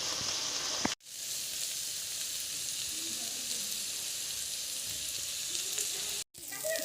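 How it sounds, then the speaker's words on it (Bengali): Small chanda fish sizzle in hot oil with green chilies, garlic, salt and turmeric, a dense, continuous frying hiss, close and steady, with two brief dropouts. "এখন আমি মাছটা ভাজা করে নেব।"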